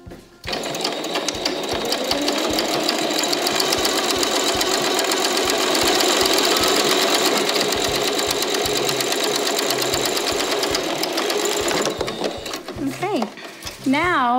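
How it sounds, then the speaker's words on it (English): A sewing machine stitches a reusable fitted mask in one continuous rapid, rattling run of about eleven seconds, then stops, and a voice speaks briefly afterward. "All right, so I'm gonna sew that into place."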